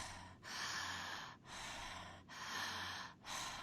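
A person breathes deeply and slowly, showing how deep breathing sounds. Four long, airy breaths follow an even rhythm, each broken by a short pause. They are close and soft, with no talking.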